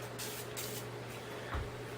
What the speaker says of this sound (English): I'll usually give it a scrub and a spray. So I'll spray down in here.